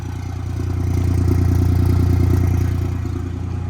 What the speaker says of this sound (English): I've never heard this thing go in a 3-cylinder idle before.